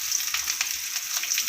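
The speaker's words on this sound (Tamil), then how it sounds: "இப்போ வந்து வெங்காயம் இந்த மாதிரி வதங்கிடுச்சு. இப்போ தேங்காய் சேர்த்துக்கலாம்." Onions and coconut sauté in a hot pan while chicken uppu kari is being prepared. A close, steady, crackling sizzle has small popping bursts and is heard alone without talk.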